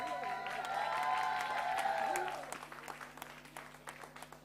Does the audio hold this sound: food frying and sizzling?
no